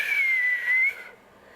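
A person tries to whistle and produces a single thin, steady, breathy tone that lasts about a second. It sounds close and fairly loud, then cuts off into quiet.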